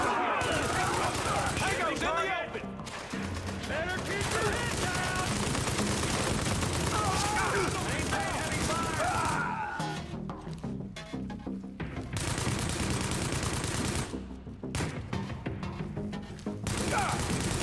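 Light machine gun fire from enemies in a shooter video game, heard as dense, sustained bursts of gunfire and impacts that continue for long stretches, with short gaps in between, while a voice talks over it.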